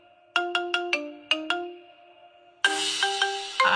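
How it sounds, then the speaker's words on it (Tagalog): A Squid Game phone ringtone plays bright synthetic notes, first a quick staccato run, then a pause, then a denser sustained phrase, clear and close. "Gusto nyo ba mag-customize ng ringtone kagaya nito?"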